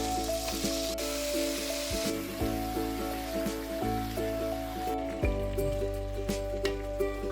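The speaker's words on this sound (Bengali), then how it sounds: "আলুগুলোকে মোটামুটি ফ্রাই করে নেব" Potatoes frying in hot oil tempered with five-spice, fenugreek and four slit green chilies, a steady close sizzle with light crackle running throughout, over a faint tonal background hum.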